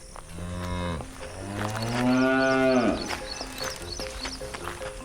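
Cows moo loudly and close by, one long drawn-out low call after another, with a steady hum in the background.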